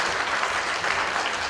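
Steady applause from a crowd at a founding general meeting fills the whole stretch, dense and even with no pauses.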